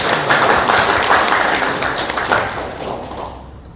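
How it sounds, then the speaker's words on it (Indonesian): Applause from an audience at a cooperative's annual members' meeting, a dense, sustained clapping that stays loud before gradually thinning out and fading toward the end. "Aplaus."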